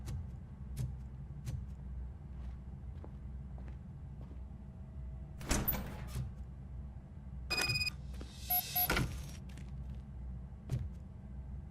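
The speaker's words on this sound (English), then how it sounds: "Now let me get that door open for you." A door swings open in the RoboCop: Rogue City video game amid steady low ambient hum, with a brief mechanical clatter and a couple of short electronic bursts partway through, set over faint scattered ticks.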